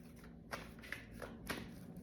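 Soft, close riffles of tarot cards being shuffled by hand come in a few quick bursts over a quiet background.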